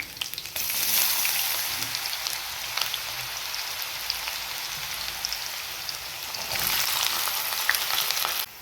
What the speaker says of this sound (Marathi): हे बटाट्याचे काप आपले असे छान गोल्डन फ्राय झालेले आहेत